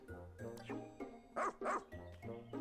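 A dog in the Pikmin 4 demo on Sun-Speckled Terrace gives two quick close barks, set against a bright, busy game soundtrack.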